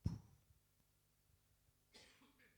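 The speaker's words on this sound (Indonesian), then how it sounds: "Maafkan saya sekali-sekali batuk ya" A single sharp cough from a pastor during a Sunday church service, close and loud at the start. A fainter throat sound follows in a quiet room.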